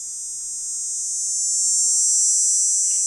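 Cicada song: a steady, loud, continuous high-pitched buzzing drone that holds evenly throughout with no pauses, heard alone in a quiet outdoor setting.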